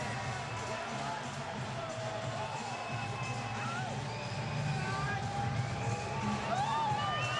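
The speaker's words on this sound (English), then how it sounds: "listen to the crowd for the former heavyweight champion of the world" A boxing arena crowd cheers for former heavyweight champion Mike Tyson, a dense continuous roar with scattered whoops and shouts rising slightly toward the end.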